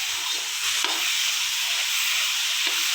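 Potatoes fry in a pan with a loud, continuous sizzle and hiss that stays close and steady, with faint stirring scrapes now and then.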